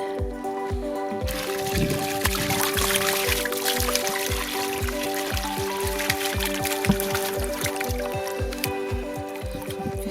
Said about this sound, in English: So we're just directly pouring them back in without mixing anything.